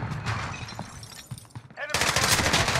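Video game gunfire, likely from a shooter with an AK47 and bayonet, a rattling burst that cuts off, then a louder, dense stretch of rapid shots near the end.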